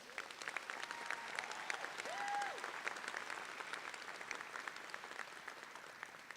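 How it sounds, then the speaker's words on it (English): Steady applause from a commencement ceremony audience, a dense even patter of many hands clapping at moderate distance, continuing without voices. "Let's give her a round of applause."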